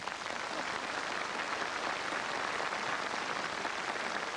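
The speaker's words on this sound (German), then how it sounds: "Uli, der Applaus ist jetzt für dich." Audience applause for music director Uli Brandt at a 1996 birthday gala in Schwarzenberg, a dense, even wash of many hands clapping that sounds rain-like and holds steady at a faint, distant level.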